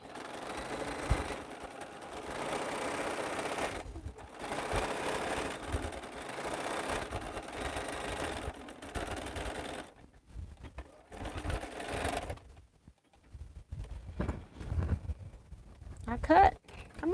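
A Bernina sewing machine stitches a quilt with a low, rhythmic whirring in several bursts and pauses, faint and close, while a person talks at times.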